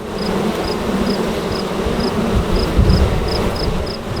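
A hanging cluster of honeybees buzzes steadily and loudly up close, a dense continuous drone with no talking.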